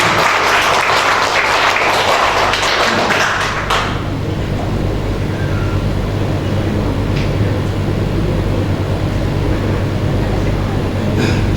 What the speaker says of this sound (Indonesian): Tepuk tangan untuk Pak Ruhiat.